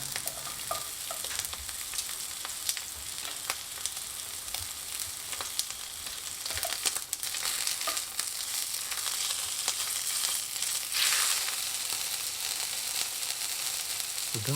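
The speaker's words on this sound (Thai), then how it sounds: "แล้วก็ใส่เนื้อตั้งไปเลยครับ หรือใครจะใช้เนยมาปรุงเนื้อก็ได้นะครับ" Beef sizzles steadily in a hot pan with garlic, a dense crackling hiss with occasional sharper pops and scraping stirs, continuous and close.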